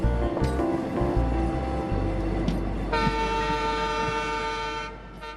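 A luxury train in India pulls away from a station, its horn sounding a sustained, steady toot over the low rumble of the moving train, with no voices.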